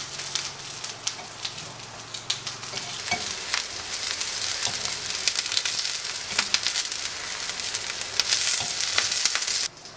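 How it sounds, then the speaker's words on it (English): Courgettes sizzle steadily in a hot frying pan while being turned over, a dense crackling hiss with scattered pops and scrapes that builds slightly louder toward the end. "Turn over these courgettes."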